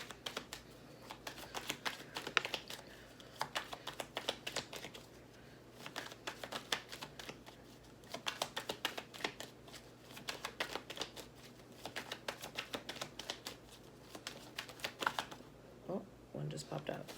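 A deck of tarot cards is shuffled by hand in bursts of quick, crisp riffling clicks, close and fairly quiet, with short pauses between rounds.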